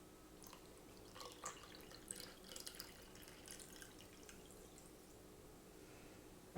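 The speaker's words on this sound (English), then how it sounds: "pour it into the ketchup." Water is poured into a nearly empty ketchup bottle, giving a faint, close trickle with scattered light drips over quiet room noise.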